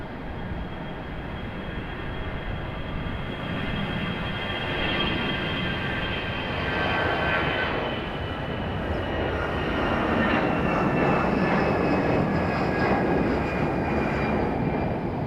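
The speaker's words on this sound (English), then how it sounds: "Good sounding A320." A Delta Airbus A320 departing Raleigh-Durham, its engine roar building and swelling over the clip with whining tonal bands sweeping across, loud and near, with no voices.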